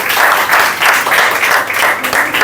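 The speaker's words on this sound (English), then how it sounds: "big round of applause for Mr." A steady wash of applause fills the room for a student at a pronunciation and accent training class in Lahore, dense and continuous with slight swells, a crowd clapping together at close range throughout.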